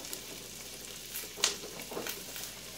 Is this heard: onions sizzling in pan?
yes